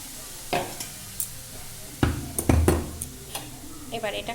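A spoon scrapes and clinks in a pan on low heat as milk is gradually mixed into caramelized sugar, giving sparse knocks and a faint sizzle, with someone speaking near the end.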